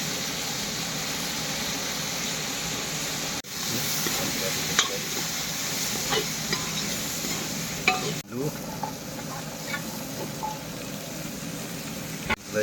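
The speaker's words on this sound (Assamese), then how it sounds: "এতিয়া ভাজি আছোঁ" Dhekia fern greens frying with potato and chickpeas in a pan, a steady close sizzle broken by repeated scraping stirs throughout, with no talk.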